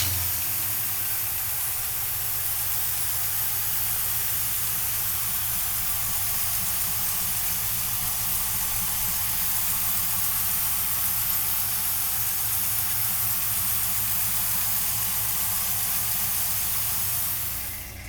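A 1972 Oldsmobile Cutlass W-30 tribute engine runs steadily and loudly for the whole stretch, a constant broadband roar with a low rumbling idle underneath and no voices.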